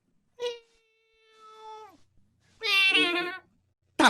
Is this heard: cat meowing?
yes